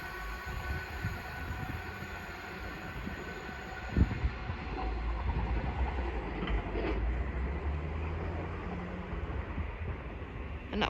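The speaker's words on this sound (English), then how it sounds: "Class 387s from London King's Cross to Ely" A Class 387 electric multiple unit passes through Hitchin station on the East Coast Main Line, a sustained loud rumble and rolling wheel noise close by, with a sharp clank midway and fading high whine toward the end.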